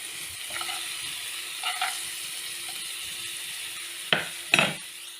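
Onion frying lightly in a pan before mushrooms go in: a soft, steady sizzle with a few louder scraping stirs of a utensil against the pan near the end, close and with no talk.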